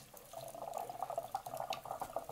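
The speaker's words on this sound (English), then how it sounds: "it's natural for water to come out like that because the pipes are just draining down" Water drains and trickles out of the pipes through an opened Moen shower and tub valve, a steady, fairly close splashing flow that grows a little stronger after the first moment, with no talking.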